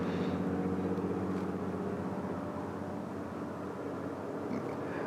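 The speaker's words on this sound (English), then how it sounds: "I won't miss when we can't hear trucks like that going by." Trucks rumble past outside a house by a river, a faint, steady low drone that swells slightly and fades, heard at a distance with no one speaking.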